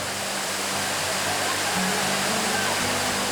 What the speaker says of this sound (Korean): 소나무 숲이 둘러싼 깎아지른 절벽 위에서 새하얀 물기둥이 시원하게 쏟아집니다